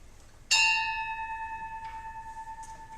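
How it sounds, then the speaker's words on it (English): A single ring of a congregation's bell, one bright struck tone that rings out and decays slowly over a few seconds, heard alone and close. "This bell, yeah, let me ring it one time."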